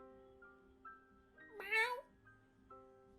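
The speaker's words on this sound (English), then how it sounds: "somewhere in here there's a cat" A cat gives one clear drawn-out meow over a soft steady hum of background music, fairly faint and somewhat distant, with no talking.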